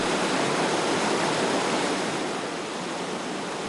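Clear creek water rushes steadily through a forest, a dense, even broadband wash that stays loud and close for the whole stretch with no voices.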